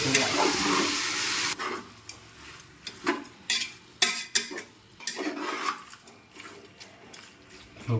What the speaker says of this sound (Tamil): பாருங்கள், நீட்டாக கிண்டியாச்சு இந்த மாதிரி.